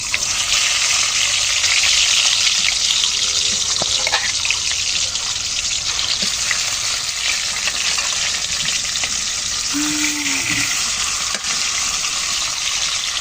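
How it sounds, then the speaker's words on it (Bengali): Salt and turmeric coated fish pieces frying in a wok, a loud, steady, hissing sizzle that carries on throughout with a couple of faint clinks and a short squeak near the end. "লবণ হলুদ মেখে রাখা মাছগুলো আমি এখন ভেজে নেব।"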